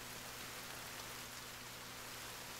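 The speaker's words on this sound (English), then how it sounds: "Apparently, there's rain sound," Steady rainfall from the survival game The Forest, a soft, continuous hiss with no breaks, moderately quiet and heard alone without any voices.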